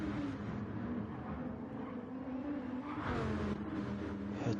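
GT3 race cars at Monza in a racing video game drone and whine steadily at moderate volume as several cars battle closely, engines holding a sustained tone with a brief rising surge near the end.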